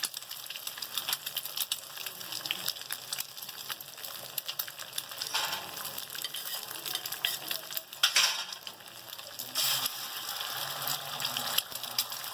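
Two eggs frying in a pan of ghee, a continuous crackling sizzle with scattered sharp pops and occasional scraping stirs, close and steady without speech.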